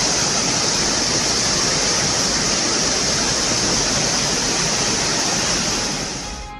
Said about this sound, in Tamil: ஈரோட்டிற்கு அருகே காவிரி ஆற்றில் வெள்ளப்பெருக்கு ஏற்பட்டிருப்பதால்